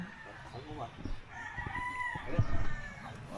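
A rooster crows once, drawn out and fairly close, with clucking and faint background noise around it.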